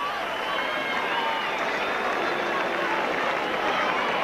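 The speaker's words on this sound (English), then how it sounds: "the deserved round of applause" Steady crowd applause and cheering at a rugby league match at Central Park, Wigan, a continuous broadband wash of clapping from a large stadium crowd filling the whole stretch at even loudness.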